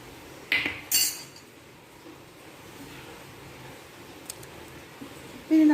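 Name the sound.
mixing sautéed masala into half-cooked beef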